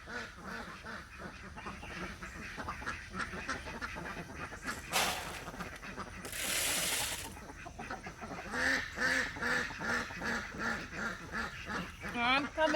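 Farm ducks quacking at a morning feeding, a run of nasal calls near the microphone amid a person talking throughout, with brief bursts of broadband rustle or splashing partway through.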